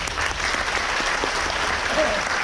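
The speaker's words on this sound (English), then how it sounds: "give yourselves a huge round of applause" Cruise ship guests applaud in a lounge, a dense, even wash of clapping close by, with faint voices mixed in near the end.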